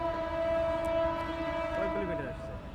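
A train at a railway level crossing on a road in Bangladesh sounds a steady, sustained horn tone throughout, moderately distant, with a voice briefly heard near the end.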